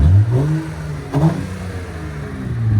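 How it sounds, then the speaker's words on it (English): A 2007 Honda Accord 3.0L V6 with a muffler delete revs briefly, its raspy exhaust rising and falling in a couple of short blips up close, then settling into a steady idle rumble. "I like it, it sounds clean. V6 Honda Accord."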